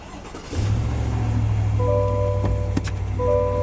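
A Ford F150 with the 2.7 EcoBoost engine starts by push button, cranking and catching into a loud, steady idle up close with a faint electronic chime tone over the running engine; no talk.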